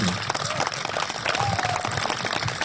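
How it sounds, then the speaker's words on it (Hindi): Audience at a Kolkata Hindi kavi sammelan applauding a poet: dense, sustained clapping from a crowd, steady and fairly loud throughout, with faint voices mixed in. "जोरदार तालियां बजाइए"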